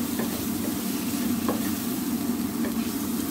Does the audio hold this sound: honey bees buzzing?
no